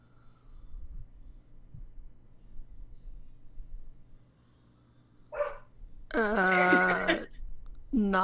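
Dogs barking in alleyways, a short yelp and then a loud close run of harmonic barks, another bark starting at the end, over a quiet low hum.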